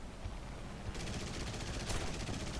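Sustained cannon and machine-gun fire from a Corsair fighter in War Thunder, a dense rattling barrage that thickens and grows brighter partway through, loud and continuous with a sharp crack near the end.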